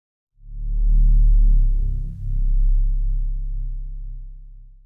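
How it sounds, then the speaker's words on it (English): A deep, sustained bass tone with a gritty, distorted edge, swelling in loudly and holding steady for several seconds with a brief dip midway. "it's a sine wave with distortion and compression and EQ"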